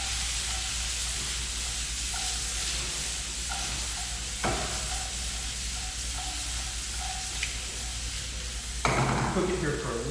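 Vegetables for an omelet cook in a hot pan, a steady sizzle and hiss throughout with a few light scrapes and taps of a utensil and one louder clatter near the end.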